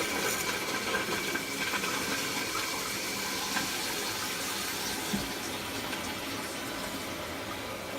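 Water rushes steadily into a toilet tank through a newly installed fill valve, a constant close hiss and gurgle of filling with no talking.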